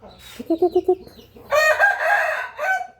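Several quick clucks, then a young Burmese gamecock's crow, a bit rough and uneven, loud and close.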